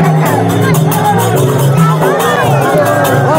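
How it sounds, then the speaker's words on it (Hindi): A dense outdoor crowd at a Charak Puja village festival in Pundru fills the air with constant babble, scattered shouts and whoops, close and loud throughout. "और देखिए किस तरह से भीड़ है"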